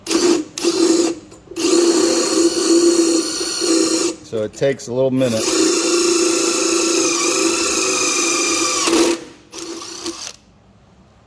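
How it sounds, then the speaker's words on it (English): A power drill bores a pilot hole with an 11/64 bit through a thick part during a motor controller upgrade, whining in several loud bursts with short stops between them, while someone talks over it. "You're going to drill a pilot hole down through here, and this is a lot of thickness"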